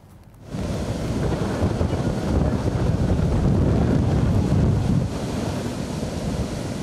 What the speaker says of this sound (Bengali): ঝোড়ো হাওয়ার সাথে হচ্ছে ভারী বৃষ্টি